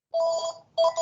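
A phone rings in a room as two short bursts of bright electronic tone separated by a brief gap, clear and fairly close, with no one talking.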